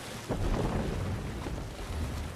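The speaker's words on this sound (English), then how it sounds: "Is there a sea storm?" Sea storm at sea in Assassin's Creed Valhalla: steady roaring wind and rain with dull thunder rumbles and surging water around a sailing longship, a constant dense wash with no talk.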